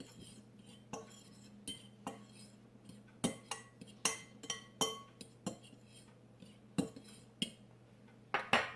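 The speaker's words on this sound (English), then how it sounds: "I'm just going to mix all those dry ingredients up real good." Dry cornbread ingredients being mixed in a bowl for low-carb Mexican cornbread, heard as a run of clinking utensil taps and scrapes against the bowl, steady and close, with no talking.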